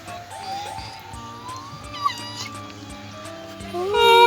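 A cat meows several times, drawn-out and close, over a faint background hum.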